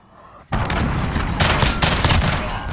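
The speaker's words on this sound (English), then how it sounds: "Allied cruise missile launched." Cruise missile strike in Call of Duty: Modern Warfare, quiet for half a second before a sudden loud blast that rolls into sustained rumbling explosions and crackling impacts.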